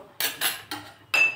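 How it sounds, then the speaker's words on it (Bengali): A metal lid lifted off a pan while patishapta pancakes cook, giving four quick close clinks and clatters in a short burst, with no talk. "তো আমি ঢাকাটা এখন খুলে নেব"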